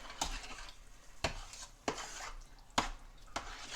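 A spoon stirs a soupy taco meat mixture with water in a pan on the stove, giving five or six distinct scraping knocks against the pan at irregular intervals over a soft background hiss.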